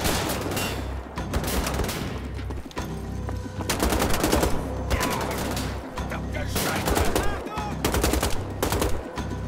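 Rapid bursts of gunfire and machine-gun fire in the video game Wolfenstein: The Old Blood, loud and dense, with sustained volleys and short gaps over a continuous battle din.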